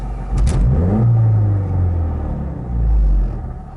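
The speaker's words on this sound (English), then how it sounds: "So let's rev." Car engine revving after a Damond lightweight flywheel and clutch install, a loud close rumble that climbs, holds and swells again, with a whirring flywheel tone riding on the low engine drone.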